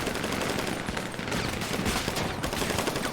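Dense, continuous gunfire in a GTA NoPixel roleplay firefight, rapid overlapping shots and bursts filling the whole stretch at steady loudness with no talking.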